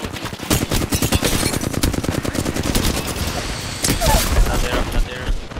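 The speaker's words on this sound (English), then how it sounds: "Another team shooting them, though." Dense automatic gunfire in an Apex Legends Season 13 fight, loud sustained bursts of rapid shots with overlapping fire, and a player's voice mixed in underneath.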